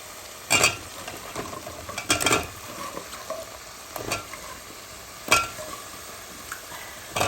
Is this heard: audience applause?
no